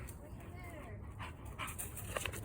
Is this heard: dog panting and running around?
yes